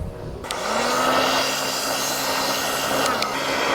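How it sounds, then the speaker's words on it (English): A heat gun switches on and blows a steady, loud, airy whoosh close by, holding an even rushing tone until the end. "I got my dad's heat gun."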